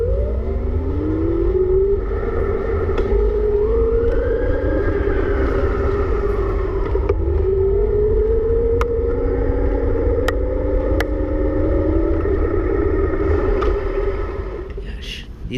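A Bafang 250 watt, 35 Nm mid-drive motor on a Faraday Porteur S e-bike whines under pedal assist, its pitch rising and falling with effort over steady road and wind rumble, with a few faint clicks.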